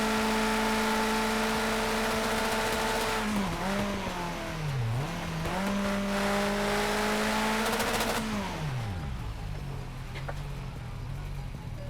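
Racing car engines in Project Cars 2 scream steadily at high revs, dipping through several downshifts and braking for a sharp corner before climbing again, loud and close with no voices.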